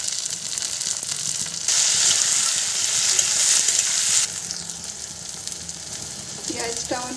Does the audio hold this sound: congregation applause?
no